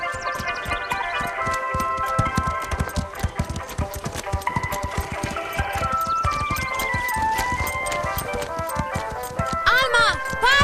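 Horses walk with a steady, busy clip-clop of hooves on hard ground, several animals at once, loud and close, with people talking over the hoofbeats.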